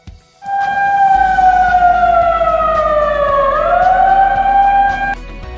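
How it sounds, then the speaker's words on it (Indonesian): An emergency warning siren at a work site sounds loud and alone, a strong steady wail that slowly dips in pitch, then climbs back up before cutting off after about five seconds. "Kedua, bunyi sirene tanda emergensi."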